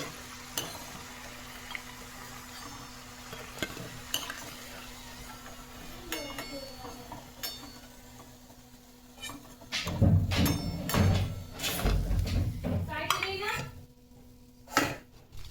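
Fried legume cutlets lifted from the pan onto a plate, with repeated close clinks of utensil on dishware and scraping that build into a busier clatter of metal and plate near the end.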